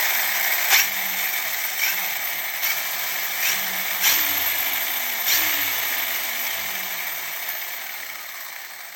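Electric motors on a 30HP dual-motor RC car whine under light throttle, with rising and falling pitch sweeps and a few sharp bursts over a steady high hiss, close and fairly loud, with no talking.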